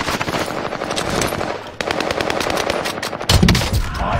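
Automatic gunfire in a battle royale video game, loud rapid bursts of machine-gun shots filling the whole clip, with a brief pause midway and a heavier burst near the end.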